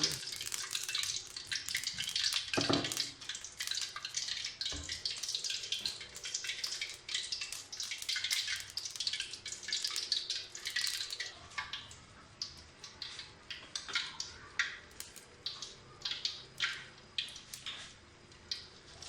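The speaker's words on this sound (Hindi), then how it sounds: "अब इसमें हम इस तरह आलू के साथ आटा लगा के कढ़ाई में डालेंगे।" Potato pakoras coated in batter fry in hot oil in a kadhai, a steady close hiss and crackle with scattered sharper pops throughout, no talking.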